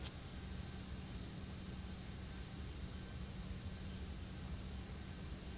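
A Boeing 737-800 (Zibo) in a flight simulator taxiing at Amsterdam, a faint, steady jet engine hum with low rumble, unchanging and without speech.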